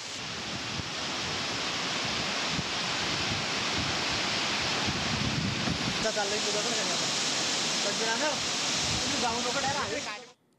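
A waterfall at the Rudreshwar caves, swollen by heavy rain, roars as a steady, loud wash of water noise throughout, with a voice faintly audible beneath it toward the end before it cuts off.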